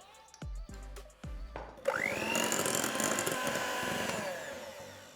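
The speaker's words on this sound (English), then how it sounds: "one yolk and then we continue to whisk" Electric mixer whisking cake batter for a peach cake as egg yolks are added one at a time: a few short pulses at first, then a continuous loud whirring motor drone with a rising pitch that holds steady, close by with no voices.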